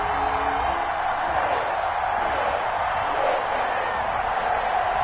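Dense stadium crowd noise at an NFL game between the Baltimore Ravens and Cincinnati Bengals, a steady loud roar of many voices with faint cheering throughout.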